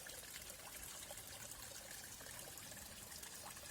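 A small stream, swollen again after rain, trickles and gurgles continuously at close range, a faint even wash of running water with no voices.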